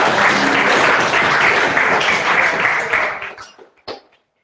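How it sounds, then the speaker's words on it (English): An audience at a deep learning meetup applauds, a dense, steady round of clapping that lasts about three seconds, then thins out and ends in a few scattered claps. "Let's give them a round of applause"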